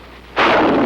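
Bazooka firing in wartime Korean War footage, a single loud blast bursting in abruptly after a quiet lead-in and roaring on to the end.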